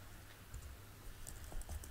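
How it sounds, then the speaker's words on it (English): Quick, light keystrokes on a computer keyboard while a Windows web browser is being built, scattered soft clicks over a quiet room hum, faint and close. "We're just gonna click and type web browser"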